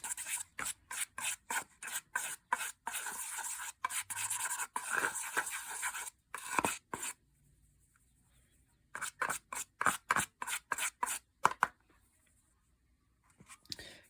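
Stirring a chalk-tinted mixture for fake ice cream: rapid, close scraping and rubbing strokes in quick bursts, pausing briefly before resuming.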